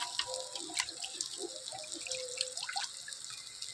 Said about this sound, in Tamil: ஒன்றுக்கு ரெண்டு தடவை சிக்கனை நல்லா வாஷ் பண்ணிடணும்